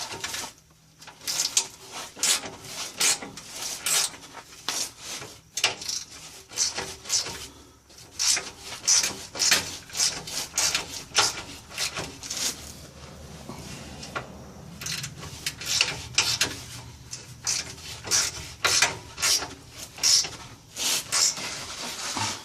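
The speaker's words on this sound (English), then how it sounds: "They get tighter as they come off because they're scraping the rust off the threads on the end of the stud." Rusted nuts are worked off the exhaust studs of a 1996-2000 Nissan Pathfinder, giving repeated short ratchet clicks and gritty metal scraping in uneven bursts, close and fairly loud.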